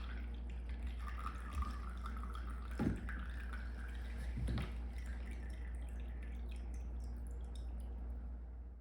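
Water drains through geofabric and EPIC drainage profiles in a lab setup, heard as faint, steady trickling over a constant low hum, with a few soft splashes and drips.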